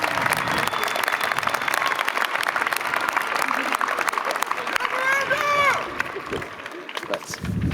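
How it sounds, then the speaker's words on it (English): A commencement crowd at UC Berkeley gives University Medal finalists sustained applause, a broad dense clapping wash with cheers rising over it before it fades, and a voice speaking near the end. "Let's give them all a big round of applause."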